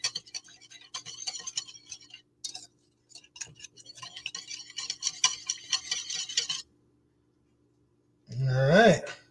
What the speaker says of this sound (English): want to just stir this until that sugar dissolves inside of the